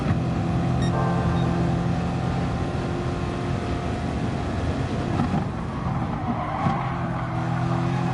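Race car engine in the GT Sport video game, short shifting up through the gears at Bathurst; a steady, loud drone of engine harmonics runs throughout with small pitch drops at each shift.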